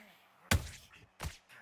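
Boxing counter punches landing, two sharp, heavy thwacks about 0.7 seconds apart, close and distinct against a quiet background.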